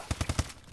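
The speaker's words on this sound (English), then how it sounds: "There's a lot of gunfire, and I don't see anybody." Rapid gunfire from the video game Call of Duty Advanced Warfare: four sharp shots in quick, even succession, loud and close, with no talk over them.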